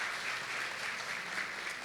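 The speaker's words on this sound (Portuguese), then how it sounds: "Você pode dar um aplauso ao Senhor pela vida da pastora Jaque" A church congregation at a family seminar claps together, a dense, steady wash of applause filling the room throughout, with no voices standing out.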